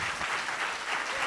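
An audience at a science-fiction night applauds people who came dressed in pyjamas, with dense, steady clapping filling the room throughout and no pauses.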